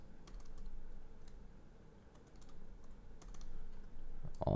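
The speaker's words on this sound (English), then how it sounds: "I'm just gonna type it once." Quiet, scattered keystrokes on a computer keyboard in a calm room, a short burst of typing with no voices.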